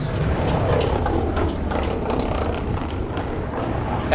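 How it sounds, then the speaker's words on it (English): A bus gives off a continuous loud mechanical rattle and ratcheting clatter, close by and steady throughout, with a dense low rumble underneath and no voices. "that bus sounds all types of fucked up"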